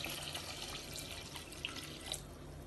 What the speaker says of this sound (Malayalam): ഞാനിവിടെ വെള്ളം എടുത്ത് വെച്ചിട്ടുണ്ട്. ഇതിലേക്ക് ഒഴിക്കാം.